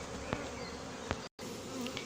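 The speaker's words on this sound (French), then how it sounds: "Les abeilles commencent à voler dans le carton." A swarm of honeybees flies into a cardboard box, making a dense, continuous buzzing hum close by, with a few louder passes and one brief cut in the sound.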